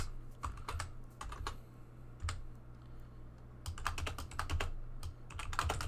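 Rapid bursts of computer keyboard typing while code is entered, clustered clicks with pauses between, fairly close over a steady low hum and room noise.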